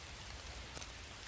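Rain falls in a woodland as a dense, even patter and hiss, soft and continuous over a short stretch, with no voices.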